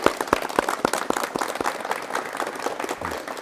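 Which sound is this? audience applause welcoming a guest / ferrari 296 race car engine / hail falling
audience applause welcoming a guest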